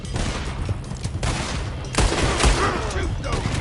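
Gunfire during a shootout in Red Dead Redemption 2, a dense, continuous barrage of overlapping shots with sharper bursts partway through, loud and close, while voices shout over it.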